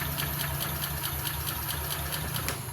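A Honda Beat CBS scooter with a hard-starting fault runs with a steady, rapid ticking engine note and constant low mechanical hum throughout, fairly close and continuous with no talk.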